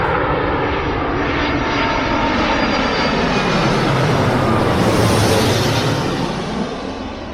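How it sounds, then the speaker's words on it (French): A French Air Force training plane passes overhead with a loud, continuous engine drone that swells to a peak as it nears and then slowly fades, with no talk over it. "C'est un avion de l'armée de l'air et c'est un avion école"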